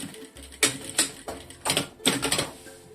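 A sewing machine stitches close along the edge of a black leatherette strip for a mini backpack, giving short mechanical bursts of rapid clattering with brief pauses between them.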